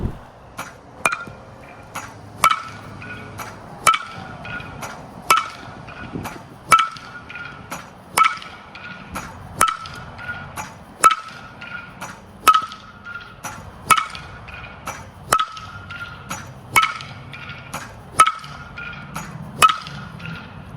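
Repeated sharp metallic pings of a 2025 Marucci CATX2 composite bat striking balls during break-in swings, evenly spaced about every second and a half, loud and close with a hollow ring.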